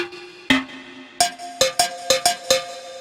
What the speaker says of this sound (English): we're going to use this bell to sort of accentuate the bass